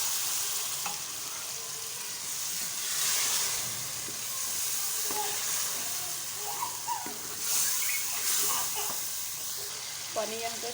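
Water poured into a hot pan of egg and potato curry, a steady loud sizzling hiss with stirring scrapes, close up, rising and falling over the whole stretch.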